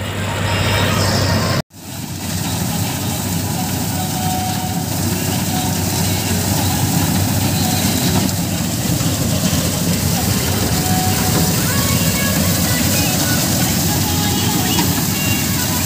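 Paddy combine harvester rumbling as it drives forward in a rice field, a loud, continuous engine drone and mechanical roar close to the microphone, briefly cut out near the start and otherwise unbroken.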